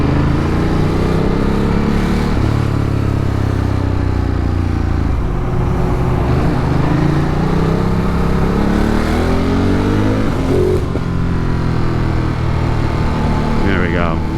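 Motorcycle engine revving and accelerating on a ride through New York City traffic, a steady loud drone with rising and falling pitch sweeps over constant wind and road noise.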